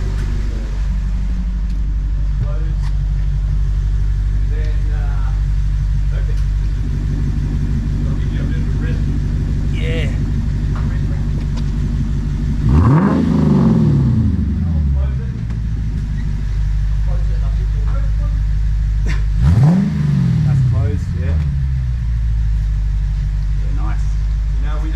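Lexus IS-F V8 with exhaust cut-outs rumbles at idle, then revs sharply twice, each rev rising and falling in a loud throaty burst; someone talks over the idle between revs.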